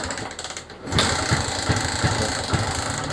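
Suzuki Smash motorcycle with a carburetor problem sputtering as it starts, a cold single-cylinder engine chugging with uneven, regular put-put pulses, near and fairly loud, no voices.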